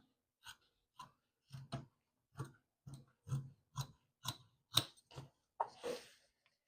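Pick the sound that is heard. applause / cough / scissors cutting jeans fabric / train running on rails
scissors cutting jeans fabric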